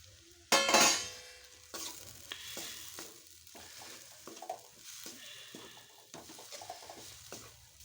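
Puffed rice (susla) being mixed by hand in a pan with the gas off, for a potato susla dish: a loud opening rattle, then a run of scraping, clinking stirring strokes at a steady pace with no talking.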